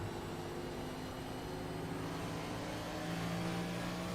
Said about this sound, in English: And you hear him having to get out of the throttle a lot here.